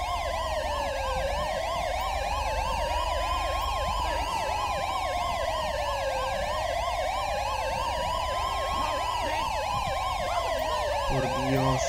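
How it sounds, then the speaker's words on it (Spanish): Several police sirens from patrol cars in GTA V with the LSPDFR mod wail continuously and loudly for the whole stretch, overlapping rising and falling tones layered together, with a low engine-like rumble underneath. "que me estáis molestando con las luces. O sea, con las sirenas"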